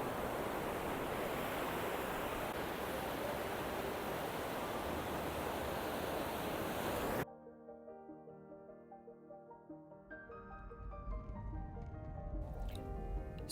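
Ocean surf on the New England seacoast: a dense, steady roar of breaking waves that fills the first half, then gives way abruptly to quieter, different sounds.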